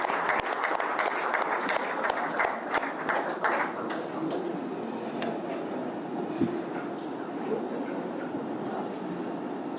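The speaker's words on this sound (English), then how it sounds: "Can we have a round of applause as we welcome on stage Mr." Applause from an audience at the NDTV Indian of the Year 2025 awards as Jay Shah, ICC chairperson, is welcomed onstage; dense clapping with sharp claps early, settling into a steady roomy wash of crowd noise.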